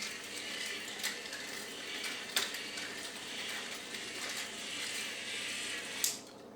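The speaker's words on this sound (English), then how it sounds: "this particular motor is walking backwards" Gear motor in the leg of a RoBox type 3 build robot running in reverse, giving a steady, close ratcheting whir of meshing gears that continues evenly throughout with no voices.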